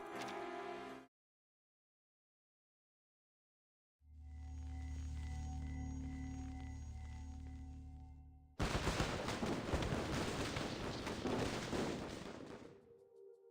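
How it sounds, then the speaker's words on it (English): Bursts of game gunfire crackle in two separate stretches after a short tonal blip and a silent gap, the last burst denser and louder. "Against the rattle of gunfire outside, the warehouse seems unnervingly quiet."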